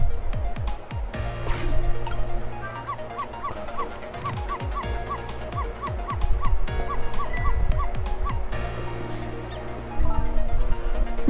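Missile, a small dog in the Ghost Trick video game, barks and yips in a quick repeated series over a busy game music background, fairly loud and close, with no talking.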